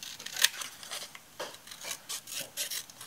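Scissors snip through watercolor paper while cutting out a painted heart shape, giving a series of close, soft rasping cuts in an irregular rhythm, with one sharper snip near the start and short pauses between strokes.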